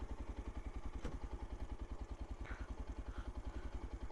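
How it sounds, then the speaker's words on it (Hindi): Motorcycle coasting in neutral around hairpin bends on a hill road: a steady, close, low engine thrum with fast regular pulsing that runs continuously, with no talk. "गियर में नहीं है, न्यूट्रल पे चल रही है बाइक"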